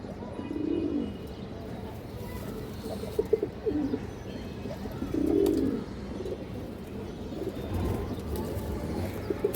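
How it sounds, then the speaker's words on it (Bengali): A high-flyer pigeon with deep purple eyes and feet coos in several low, throaty bursts spaced a couple of seconds apart, fairly close, against a quiet background with faint chirps. "অনেক সুন্দর একটা কবুতর মাসাল্লাহ খুবই চঞ্চল কবুতর"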